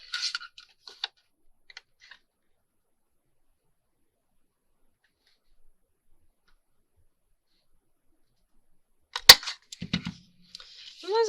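A large paper punch cuts through patterned paper, giving a few sharp, close snaps separated by long quiet gaps.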